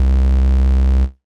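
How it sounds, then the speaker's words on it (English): A Massive X synth patch built on a triangle waveform with a little saw blended in and slight distortion, holding one steady, rich low sustained note for about a second before cutting off cleanly. "We'll have kind of a traditional triangle waveform with a little bit of distortion on it."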